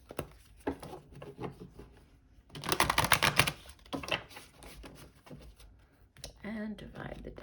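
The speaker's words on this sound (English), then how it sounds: "we'll do one last shuffle" Tarot deck shuffled by hand, a burst of dense riffling card clatter in the middle with lighter card handling before and after, close up with a voice speaking nearby.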